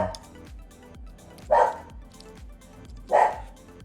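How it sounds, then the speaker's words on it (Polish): A dog barks indoors twice, two loud sharp barks about a second and a half apart, over a quiet room with faint rhythmic background sounds. "Idę uspokoić pieska, wypuszczę go może na dwór. Coś tam widziała na dworze przez okno."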